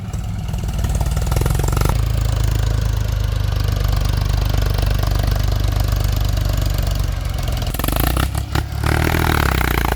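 A car engine runs steadily in fourth gear on a dirt road, a continuous low drone with mechanical clatter that holds fairly loud and close throughout, dipping and wavering briefly near the end.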